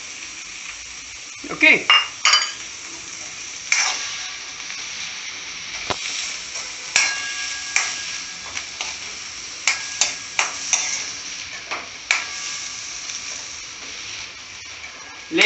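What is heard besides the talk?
blanched green peas added to pan and cooking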